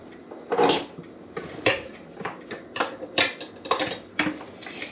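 Food for chicken fried rice is placed into an electric skillet with a series of close, sharp clinks and scrapes of utensils against the pan, arriving in irregular bursts.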